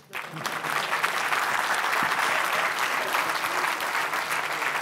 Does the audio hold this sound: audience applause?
yes